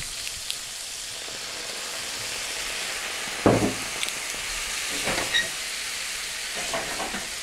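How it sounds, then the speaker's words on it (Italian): Port wine hits a hot pan while making chicken Sandeman, giving a soft, steady sizzling hiss with a brief clatter midway and faint bubbling bursts after. "una volta che la fiamma è spenta aggiungiamo il porto"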